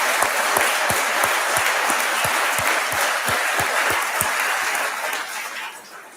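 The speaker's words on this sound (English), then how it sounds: "a round of applause" A crowd at a 2024 Memorial Day ceremony in Milton claps steadily, with a few louder rhythmic claps near the front. The applause fades out over the last second.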